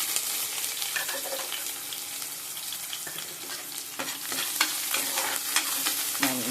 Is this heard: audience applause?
no